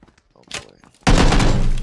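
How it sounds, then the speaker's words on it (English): A shotgun in a video game fires a loud, abrupt blast after a few quiet clicks and thumps, followed by a sustained crashing roar, with faint speech just before. "How do these shotgun shots not kill these guys?"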